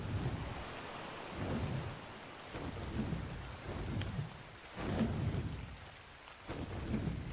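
Rain falls steadily in the survival game ARK on the Valguero map, with rumbling thunder swelling and fading in several rolling waves.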